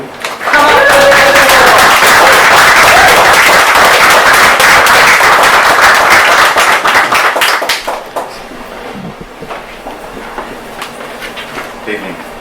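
A small open-mic audience at an evening poetry night claps and cheers loudly for a poet, a dense burst of applause that holds steady and then thins out into scattered claps and murmuring.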